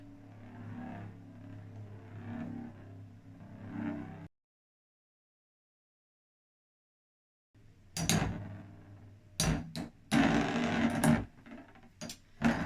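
Beyblade Metal Fight spinning tops collide in a ProStadium, giving a run of sharp clacking hits and grinding rattles after a short silent gap, with a low steady hum of spinning beneath.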